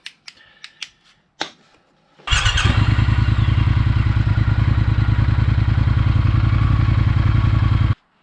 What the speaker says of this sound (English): I'm now going to run the engine for a little bit to see if that goes down at all.